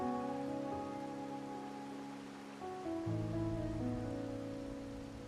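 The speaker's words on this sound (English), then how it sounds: "My granddaughter told me Raguna's rain is a bad omen" Steady rain falls in a Wuthering Waves game scene in Raguna, a soft continuous patter under a sustained musical score that swells midway, with no talking.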